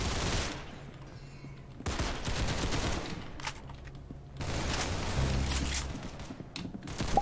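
Bursts of rapid gunfire from guns in the Roblox game Arsenal, sustained volleys broken by short pauses over a steady game background, with no voices.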